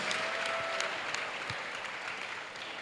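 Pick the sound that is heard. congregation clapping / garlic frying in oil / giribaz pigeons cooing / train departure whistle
congregation clapping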